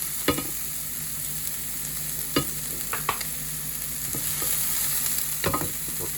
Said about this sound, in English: As you can see, it's got a nice sizzle.